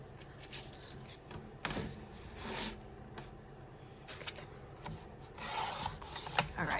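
A paper trimmer slices through sheets of paper tags in a series of short rasping strokes, close and moderately loud, with bursts of rubbing and scraping between the cuts.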